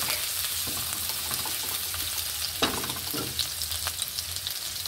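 Garlic fries in a hot pan with a steady, even sizzle that runs the whole time. A couple of soft stirring scrapes come through, and no one speaks.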